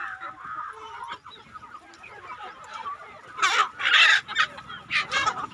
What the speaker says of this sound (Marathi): तर इथे घास मी आता कोंबड्यांना टाकलेला आहे, तुम्ही बघू शकता।